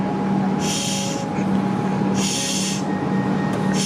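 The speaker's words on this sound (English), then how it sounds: "Comeng's train on the down Craigieburn service." A Comeng electric train on a down Craigieburn line service rumbles with a steady low drone, while bursts of hissing air break in at regular intervals.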